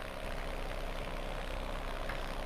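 A rough, unhealthy Ursus tractor diesel engine with a blown head gasket and leaking diesel, in a farming video game, idling with a steady low rumble and a faint uneven knock, continuous and fairly close, with no voices.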